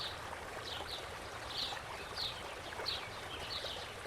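A paintbrush is rinsed in a jar of water while painting. About six soft, rhythmic swishes and trickles sound close by and quiet.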